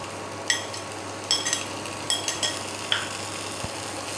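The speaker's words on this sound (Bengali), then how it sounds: "ভালো করে ফের মিশিয়ে নেবো" A snack-roll mixture with sugar and chopped coriander is stirred in a pan, giving several short scraping knocks of a utensil spaced irregularly over a faint, steady background hiss.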